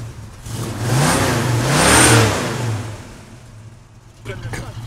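Ford Mustang engine revving up and back down twice, a loud nearby roar rising and falling with a raspy edge, followed by a short blip at the end.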